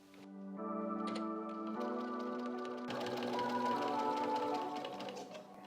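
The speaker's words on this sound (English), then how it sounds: "we're just going to start sewing" Domestic sewing machine stitching the edge of a quilt, a steady close whirring run that begins abruptly and speeds up slightly partway through, with no talking.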